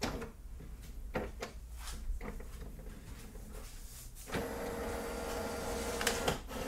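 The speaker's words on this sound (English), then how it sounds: "The printer will take page by page and scan them." Epson WorkForce Pro WF-4820 printer feeding and scanning pages one by one, a mechanical whirring with repeated clicks and clunks as each sheet passes, moderately close, no speech.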